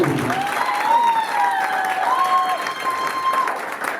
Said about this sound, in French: acclamez très pour la sœur Sarah